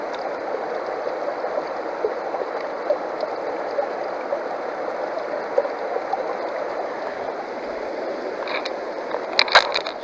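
Water runs steadily down a gold prospecting sluice with a dream mat, rushing over gravel in a constant close wash, with a few light clinks and scrapes near the end.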